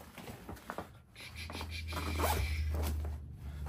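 A zipper on a tactical go bag is pulled in a long steady run, preceded by a few short rustling tugs, close and fairly quiet with no talking.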